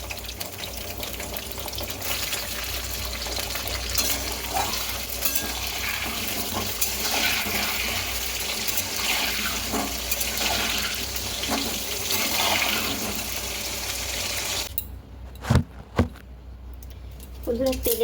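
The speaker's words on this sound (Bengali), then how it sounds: "তেলের ভিতরে আমি আলু ভাজা হয়ে গেছে" Potato pieces fry in hot oil in a home kitchen, giving a steady loud sizzle for most of the time before it cuts away to a few clatters and knocks.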